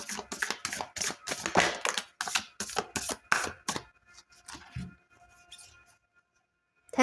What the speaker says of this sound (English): It's so difficult to shuffle this.